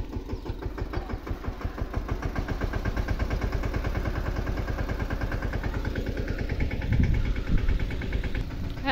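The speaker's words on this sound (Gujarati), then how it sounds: "તો ટ્રેક્ટર ફાઇનલી પૂગી ગયું" A tractor engine runs steadily close by at a farm, a loud pulsing diesel throb with a slight surge near the end and no voices over it.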